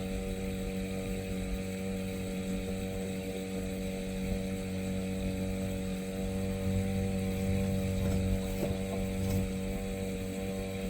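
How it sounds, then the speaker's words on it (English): Auxiliary motor of an Endeavor 32 sailboat running steadily underway, a continuous close droning hum with a few faint knocks and no voices. "I wish I didn't even need the motor."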